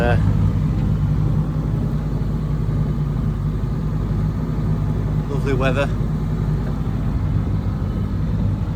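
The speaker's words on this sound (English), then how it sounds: "On the move, on the engine, not much wind." Sailboat motoring out of a bay under its inboard engine in light wind, a steady low diesel drone running continuously beneath someone talking, with a brief brighter burst midway.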